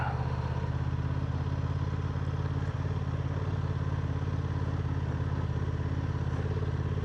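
A Honda Transalp motorcycle on the road, its engine droning continuously and loud up close with a steady low rumble and wind roar as the rider works the clutch.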